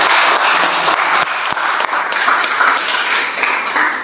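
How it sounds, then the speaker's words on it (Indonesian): Classroom applause for a student group after a presentation, many pupils clapping in a dense, bright wash that stays loud and steady for several seconds with a few sharp taps standing out. "Tepuk tangan."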